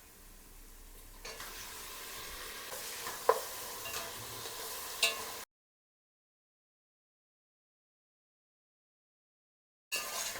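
Spices and tomato sautéing with ginger garlic paste for mutton pulao, a steady sizzle with a few stirring clinks, then a long silent gap before the frying resumes briefly.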